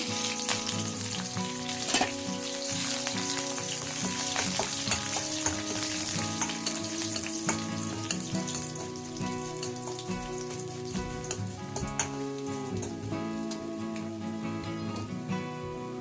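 Crushed garlic, asafoetida, Byadagi chillies and curry leaves fry in hot oil, giving a continuous, crackling sizzle with sharp pops and the scrape of stirring throughout.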